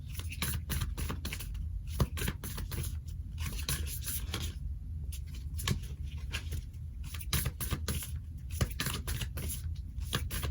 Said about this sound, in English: I'm gonna go ahead and pull two different cards at least from these two different decks I have